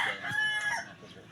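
A fighting cock crows once, a single mid-distance cock-a-doodle-doo of about a second, fairly faint against a quiet background.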